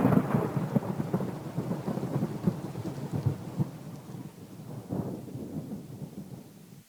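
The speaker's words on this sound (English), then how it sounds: "Because after you get struck by lightning, there's thunder." Thunder rumbles and rolls in long low waves through a rainstorm, loud at first and fading toward the end, with a second swell midway.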